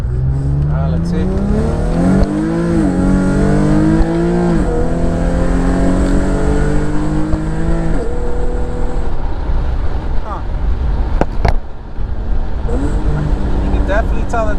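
Infiniti G37 sedan fitted with aluminum crank and alternator pulleys accelerating through several gears, its engine note repeatedly climbing and dropping at each shift, loud and close from inside the car.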